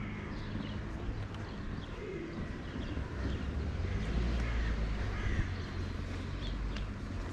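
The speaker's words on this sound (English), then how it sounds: "Little pigeons are eating some nuts there too." Outdoors, pigeons feed on scattered nuts while crows caw intermittently among them, with soft bird calls over a low, steady rumble of background noise.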